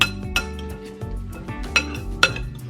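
A summer salad is tossed in a bowl, with utensils clinking against the dish in a loose rhythm of bright, close taps and scraping rustles, heard alone.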